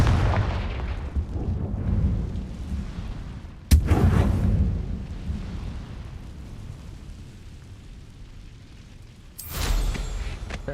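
Confringo fire-blast spell explosions in the video game Hogwarts Legacy: heavy booming blasts with a sharp crack near four seconds and another burst near the end, rumbling decays between them, loud and with no speech.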